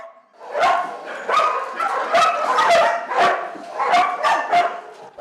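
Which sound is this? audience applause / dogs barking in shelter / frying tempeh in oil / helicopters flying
dogs barking in shelter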